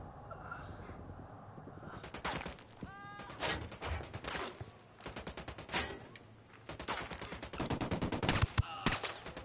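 Rapid gunfire in a tactical shooter game set in Bolivia, with bursts of sharp shots and rattling automatic fire coming in clusters throughout, loud and close, with faint speech mixed in.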